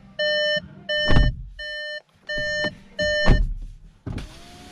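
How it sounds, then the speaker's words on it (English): A 2022 Volkswagen MK8 GTI's electronic chime beeps repeatedly in steady bursts with the ignition on, then a power window motor whirs briefly near the end. No one speaks. "I'm gonna open the windows a little bit."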